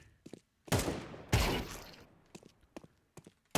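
Several bursts of gunfire ring out in Counter-Strike 2, two heavy close shots with reverberant tails followed by lighter, quicker shots and clicks, with brief talk around them.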